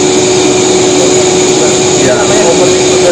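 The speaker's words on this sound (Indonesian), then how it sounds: "ini mesin adalah mesin extruder" An extruder machine on a gully trapezium concrete production line runs with a loud, continuous mechanical roar and a steady whining hum throughout, without pauses.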